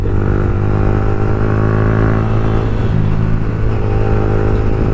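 A motorcycle engine revs hard and steadily, a loud close droning roar with rising and falling pitch, no voices.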